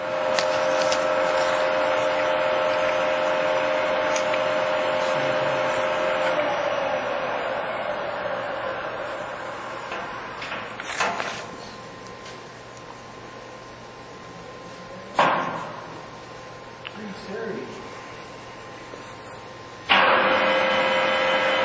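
A Kingston HJ series tool room lathe, Taiwan-built and fitted with a lever operated 5C collet closer, runs at a slow 75 RPM with a steady mechanical hum and whir, broken by a few short clunks and bumps near the end.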